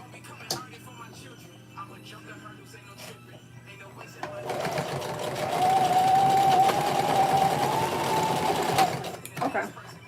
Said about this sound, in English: we'll put it back under the sewing machine